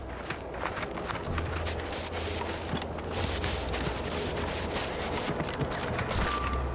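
Gunfire in The Outer Worlds 2 during a firefight with drones, a dense run of sharp shots and impacts over a constant low rumble of game ambience, with footsteps and scattered mechanical clatter.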